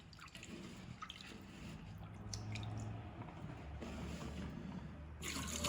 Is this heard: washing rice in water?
yes